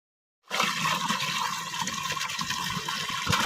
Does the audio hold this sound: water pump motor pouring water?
yes